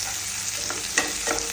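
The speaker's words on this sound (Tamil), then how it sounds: "இப்போ நான் ஒரு 10 பல்லு பூண்டும் ஒரு துண்டு இஞ்சியும் போட்டுறேன். இதையும் போட்டு நல்லா வதக்கிக்கோங்க." Onion, green chilies, garlic and ginger sauté in a pan, a steady close sizzle with soft scraping stirs breaking through, and no talking.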